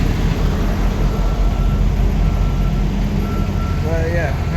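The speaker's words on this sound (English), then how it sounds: "my truck's doing a regen right now and it's very noisy." A semi truck running a diesel regen makes a loud, constant rumbling roar close by, with a faint whine near the end.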